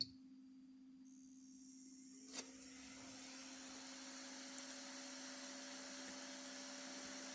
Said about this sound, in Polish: Wentylator, jak pewnie słychać, zaczyna się kręcić.